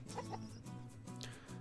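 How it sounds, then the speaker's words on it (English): Chickens clucking in a Paw Patrol video game, a few short close clucks and squawks over a soft background tone, with no voice over them. "Just trying to get all the chickens."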